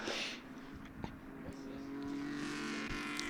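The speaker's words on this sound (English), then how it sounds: "So that's being followed by the James Willis Cooper T45, number 42, following the front and rear engine" A Cooper T45 historic Grand Prix racing car, number 42, goes by at a circuit meeting with a steady, rising engine drone under heavy wind and crowd noise, moderately distant.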